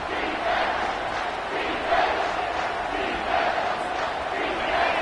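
Stadium crowd at a football game roars with a steady, dense cheer that swells slightly in places and carries on without a break, loud and continuous with no clear voice standing out.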